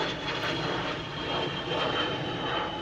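A plane flies overhead, its engine roar a continuous, fairly loud broadband rumble and hiss that stays even throughout, with no voices.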